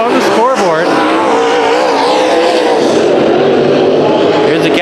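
Race cars scream around Bakersfield Speedway during a 2014 heat race, a loud, continuous high engine whine that rises and falls as they pass, with an announcer talking over the roar.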